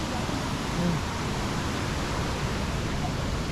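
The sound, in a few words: waterfall on a forest nature trail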